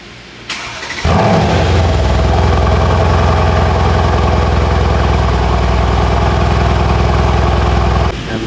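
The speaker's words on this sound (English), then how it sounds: "Another day, another AMG cold start." A Mercedes-AMG C63 W205 engine cold-starts with a sharp crank-and-catch burst, then settles into a loud, steady, rumbling idle that holds close and continuous for several seconds before cutting off.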